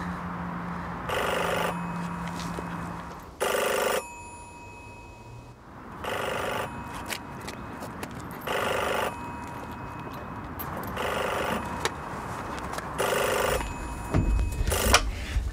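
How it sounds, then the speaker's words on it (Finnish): A telephone rings repeatedly in a Finnish short film, about seven evenly spaced bursts of bright, trilling bell sound, each lasting under a second, separated by quiet gaps against a low background hum. "Mutta minähän sanoin, että puhelin soi, enkö?"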